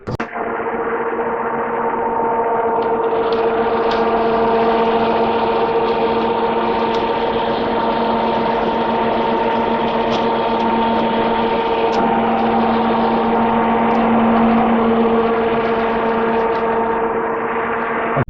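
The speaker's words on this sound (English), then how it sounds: "we're going to now power on the fan so you can get some idea of how much air they move" Maradyne high performance dual electric radiator fans bolted to the core support of a car with an LS1 engine, running as a loud, steady whirring whoosh with a constant tone, unchanging from start to finish.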